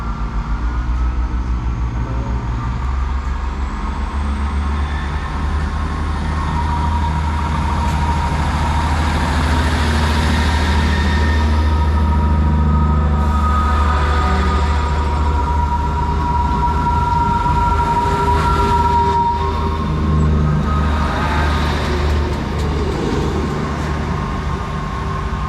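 Trains 158, 750 and 767 pull out of a station: a long, loud rumble of diesel engines and rolling stock building and passing close by, with a faint rising whine and some metallic squeal, and no talking.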